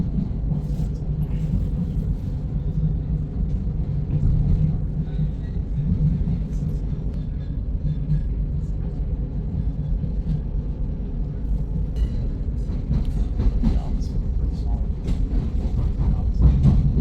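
A passenger train ride in London, a steady low rumble of the moving carriage with faint clatter throughout, and people talking intermittently over it.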